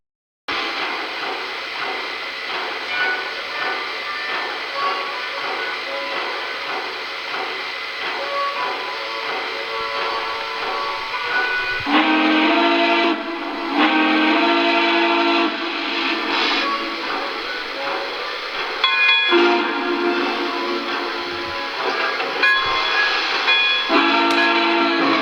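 A Lionel Berkshire model steam locomotive runs steadily on toy rails, its rumbling motion continuous and close, with the whistle sounding in several sustained blasts partway through.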